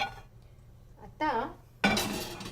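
A metal griddle pan lifted and set aside on a home stove while cooking a spicy chicken curry, giving two sharp clanking scrapes of metal on metal, close and fairly loud, separated by a quiet pause.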